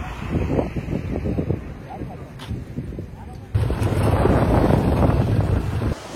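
Rushing floodwater at Edupayalu temple during heavy rain, a loud continuous roar with wind buffeting the microphone, surging stronger midway, with a voice talking over it.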